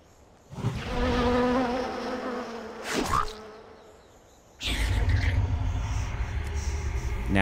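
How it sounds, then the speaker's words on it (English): The Swarm of Flies ability from World of Warcraft gives a dense insect buzzing that swells in, dips briefly around a sharp game effect, then returns louder and steady, with no voices. "we're going to follow it up with Swarm of Flies"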